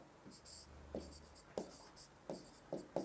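Chalk or a pen tapping and scratching across a board in short separate strokes, about five distinct marks at an even pace, quiet and close in a classroom setting.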